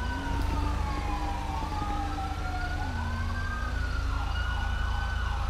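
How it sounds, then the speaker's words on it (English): Ambulance siren in Ireland sweeping up and down in pitch with a loud, steady wail over low road and engine rumble from a moving patrol car, heard clearly from nearby. "Oh, there's an ambulance."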